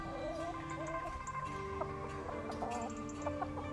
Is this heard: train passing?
no